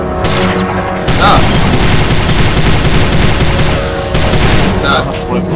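Loud bursts of gunfire in the video game Prey crackle in rapid succession with deep booms mixed in, dense and close, with a voice speaking briefly over the shooting.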